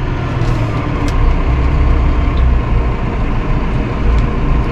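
A Massey Ferguson 5S.145 Deluxe loader tractor engine drones loud and close, a rough low rumble that eases slightly as the revs drop.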